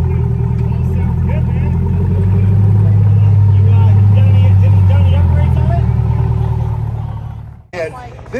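A Chevrolet Corvette C8 supercar runs at speed at a supercar festival event, its loud sustained engine roar building and holding close before cutting off abruptly, with crowd chatter and voices mixed in.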